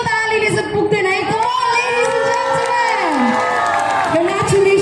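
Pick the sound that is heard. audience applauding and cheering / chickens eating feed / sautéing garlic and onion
audience applauding and cheering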